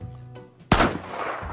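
A single sharp gunshot at a Minecraft shooting gallery, one loud close crack with a short decaying tail after a quiet moment.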